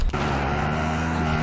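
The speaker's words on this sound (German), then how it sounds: "Der Autosound ist so cool." A vehicle engine drones steadily in the video game Call of Duty: Warzone, its loud, even hum following a brief sharp thump at the start.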